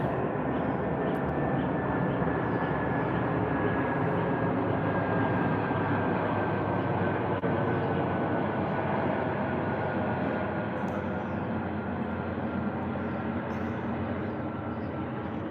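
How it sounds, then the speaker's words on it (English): A steady, broad roar of an airplane flying overhead fills the whole stretch, loud and continuous, easing very slightly toward the end. "Airplane."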